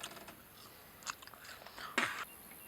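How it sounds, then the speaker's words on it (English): Sugar cane being bitten and chewed close up, a few crisp crunching bites and wet chomps at uneven intervals, fairly quiet, with no talking. "Probably chomping it. It's quite satisfying to chew."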